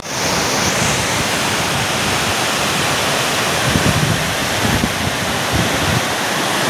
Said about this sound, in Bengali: এখানে বেশ ভালোই জোরে হাওয়া দিচ্ছে